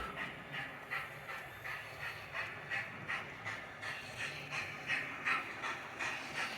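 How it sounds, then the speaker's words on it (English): A steady rhythmic clatter of a TT-scale model train rolling through a station, with repeating wheel clicks over a continuous mechanical rumble. "the train coming through yet again"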